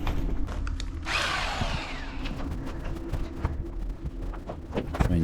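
A power drill bores pilot holes into rock at an opal mining claim, whining steadily up close for several seconds with a brief louder burst near the start and scattered clicks and knocks of work around it.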